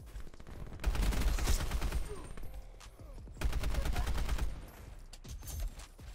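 AN94 assault rifle fire in Call of Duty Black Ops 4, two rapid bursts of close, loud gunshots each lasting about a second and a half, with scattered extra shots and game noise between them.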